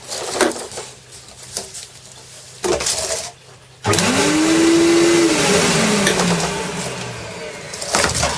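A homemade dust collector pulls debris through a pipe into a bucket: a loud, close motor roar with a whining pitch that rises and falls, after shorter bursts and knocks at the start.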